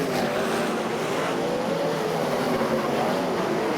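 Sprintcar racing engines at Charlton Raceway, a steady loud broadband roar of engines running continuously throughout, with no voices.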